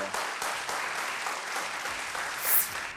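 Steady applause from a television game show studio audience, dense even clapping throughout at moderate level, with no talking.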